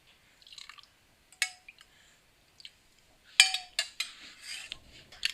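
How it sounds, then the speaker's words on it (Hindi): Eggs and milk are whisked in a bowl for French toast, giving quiet, irregular clinks and taps of utensil against the bowl with brief wet sloshes between them, close up. "इसको अच्छे से फेंट लेंगे।"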